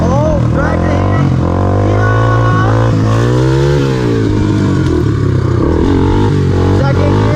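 A Honda 300ex ATV engine revs loudly and nearby, its pitch climbing and falling through throttle bursts with a raspy, clattering tone while voices talk and shout over it.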